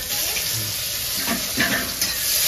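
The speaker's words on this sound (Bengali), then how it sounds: "পরে দেবো, পেঁয়াজটা ভাজা হয়ে যাক।" Onion frying in a pan with bay leaf and cumin in Bengali home cooking, a steady close sizzle with stirring scrapes that swell briefly near the end.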